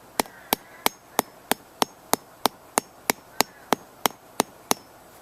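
Sharp, evenly spaced hammer blows pound a stake into the ground, one after another, about three per second, loud and close, with no talking.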